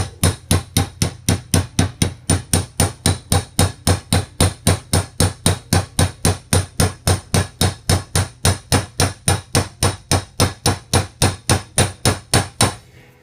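Hammer blows drive a cold chisel into a chair cane spline, a long steady run of evenly spaced, sharp, loud taps of even strength, close up and alone.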